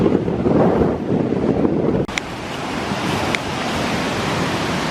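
The swollen River Kent near Sizergh rushes over rapids in a steady broadband roar, heard from a woodland walk with heavy wind buffeting the microphone and a couple of brief knocks midway.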